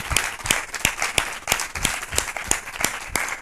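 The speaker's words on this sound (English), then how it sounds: "all of the entrepreneurs deserve a massive round of applause again" An audience claps for entrepreneurs at a startup founders and angel investors event; loud, close hand claps land in a loose, uneven rhythm, with no talking over them.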